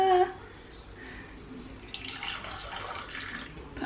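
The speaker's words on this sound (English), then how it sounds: "I'm also going to just pour it back and forth just to cool it a little bit." Warm honey lemon drink is poured back and forth between two cups, a soft trickling and splashing stream that rises after a brief pause, close and moderately quiet.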